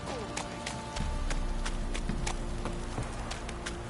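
Horse hooves clip-clopping in a PS4 video game, a steady run of sharp, fairly faint hoofbeats over a low background hum.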